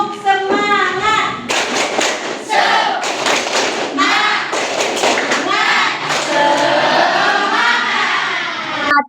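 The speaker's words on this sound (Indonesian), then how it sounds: "Tepuk semangat." Rhythmic patterned clapping by a school class doing an enthusiasm cheer, led by a teacher, with bursts of sharp coordinated claps and children's voices chanting along between them.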